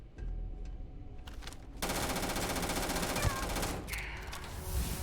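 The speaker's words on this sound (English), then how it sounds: "This gun sounds good." Rapid automatic gunfire from a weapon in the video game Starfield, a dense continuous burst starting partway through and running loud to the end, over a fainter earlier stretch of game noise.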